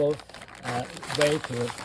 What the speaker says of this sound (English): I'm putting a double extra Ziploc bag on top of what it comes with already